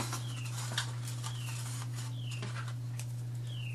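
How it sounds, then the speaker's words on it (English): Small birds chirp nearby outdoors, repeating short descending calls about once every second, faint against a steady low background hum. "I have birds that are nearby chirping, so that's going to add some ambiance to this lesson"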